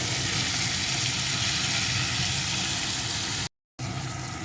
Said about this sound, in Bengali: এইভাবে একটু নেড়ে নেব